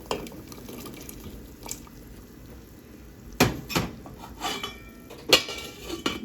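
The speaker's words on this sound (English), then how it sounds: "Now that it's been 5 minutes, we're gonna be adding our chickpeas." Chickpeas go into a pot of simmering couscous broth with a few clanks and sharp metallic knocks against the pot, scattered among soft liquid drips and kitchen clatter at a quiet level.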